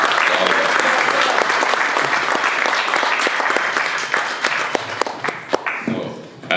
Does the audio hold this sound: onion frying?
no